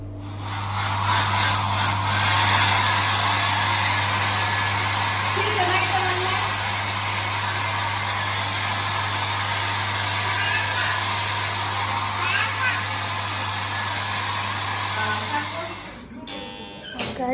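A hair dryer blows continuously to dry hair after a hot bath, a loud steady whooshing drone with a low hum that cuts off near the end.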